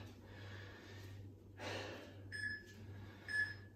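Heavy breathing during a bootcamp-style movement workout, a few loud breathy gasps and exhales spaced unevenly over a steady low hum, close to the microphone.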